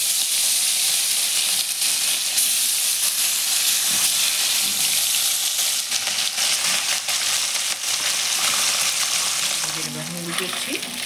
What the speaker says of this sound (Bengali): এখন তেল গরম হয়ে গেছে, মাছ ভাজবো।